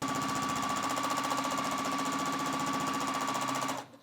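A Juki TL2200 QVP Virtuoso longarm quilting machine on a Grace frame stitching at speed, with a steady rapid mechanical chatter and a constant hum that stops abruptly near the end.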